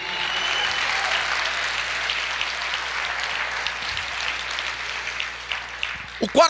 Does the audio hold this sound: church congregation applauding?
yes